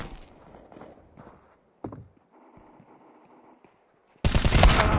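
Gunfire in the video game Counter-Strike 2: a few scattered shots and footsteps at a moderate level, then a loud, dense burst of shots at the very end.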